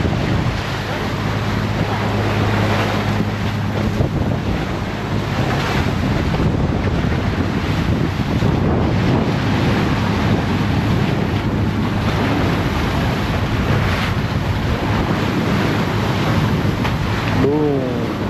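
Gusty sea wind roars across a moving boat's microphone alongside continuous wave wash and a low engine hum, loud and unbroken, with faint voices briefly audible under the noise.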